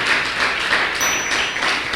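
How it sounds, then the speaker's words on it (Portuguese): A church congregation breaks into applause, a steady wash of many hands clapping for two seconds with no talking, close and even. "Dê um aplauso a Ele, porque é Ele que fez tudo."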